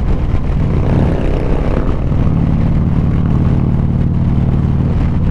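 A loud, steady Harley-Davidson motorcycle engine rumbles with a deep, throaty exhaust drone, shifting slightly in pitch partway through and staying close and continuous.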